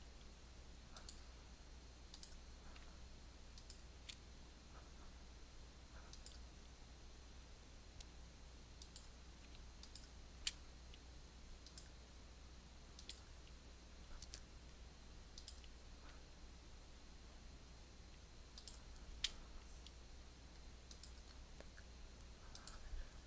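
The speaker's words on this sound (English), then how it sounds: "Click on it, shift, click on your frame, path union." Faint, sparse mouse clicks from someone working in Inkscape on a computer, scattered irregularly as single sharp ticks with longer gaps between them over a quiet steady background hum, with no talking.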